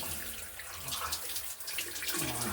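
Hot water runs steadily from a tap into a sink while limescale is being cleaned off, a close, continuous splashing hiss with no talking.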